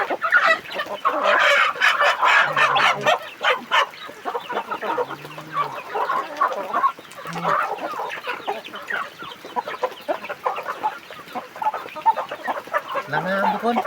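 A fighting cock clucks repeatedly in a field, with short guttural calls coming in irregular runs, close by, while other birds chirp faintly in the background.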